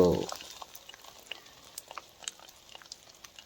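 An egg dropped into hot oil in a pan, starting with a brief loud hiss and then settling into a quiet, steady patter of small crackles and pops that continues alone.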